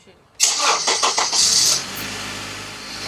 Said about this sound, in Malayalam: ഞാനൊന്ന് വണ്ടി സ്റ്റാർട്ട് ചെയ്യാം